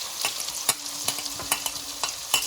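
Chopped ginger, garlic and chilli stir-frying in a pan for chilli chicken, a constant sizzle broken by quick, regular scraping strokes of a spatula, close and fairly loud.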